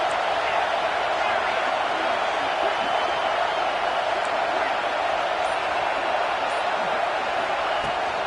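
A college football stadium crowd roars as a dense, steady wash of noise throughout, under continuous play-by-play commentary.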